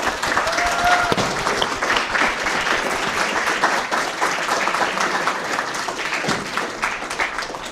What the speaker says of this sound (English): if we can give the panelists a round of applause for their time